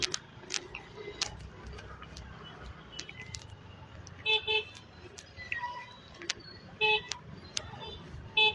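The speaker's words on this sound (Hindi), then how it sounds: "तो यार हॉर्न क्यों बजा रहा है इतना" A car horn honks in busy city traffic. It gives several short toots, including one double blast, over a low rumble of traffic with scattered ticks and clicks.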